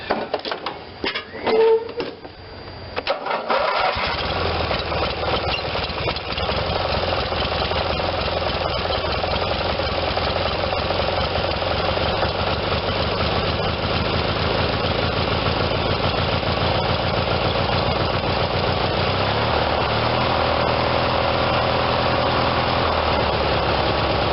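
A neglected Briggs and Stratton twin-cylinder tractor engine idles steadily and loudly up close, with a rough, slightly knocking low rumble. Brief clattering handling noises come first, then the engine runs alone.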